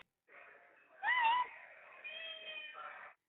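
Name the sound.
cat meowing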